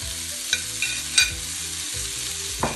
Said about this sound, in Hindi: अब प्याज भी भुजा गेल छै तो एमे टमाटर डाल देबै।